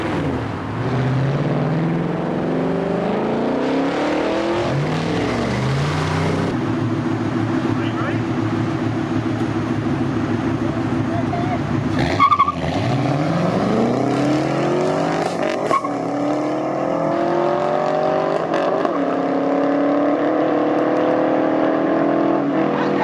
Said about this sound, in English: What do you say we do a little performance run, a little acceleration test,